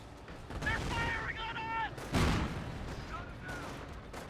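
An anti-tank gun fires in a Company of Heroes battle, with two sharp broadband blasts a couple of seconds apart amid other combat noise and tonal game sounds.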